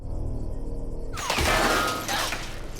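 Bullets suddenly shatter glass over a low ambient hum, with a bright crash of splintering and a second burst shortly after.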